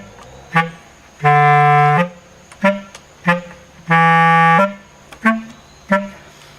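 A bass clarinet plays an etude slowly in a close room, alternating long sustained low tones with short tongued notes in an even rhythm, alone without talk.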